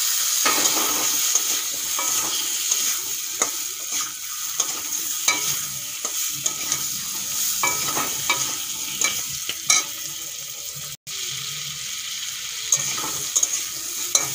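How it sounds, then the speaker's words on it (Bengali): Tomatoes and ground drumstick paste fry in a pan with a soft continuous sizzle, punctuated by repeated scraping stirs of a spatula at close range. "টমেটো আর সজনেগুলো একটুক্ষণ ভেজে নিয়েছি"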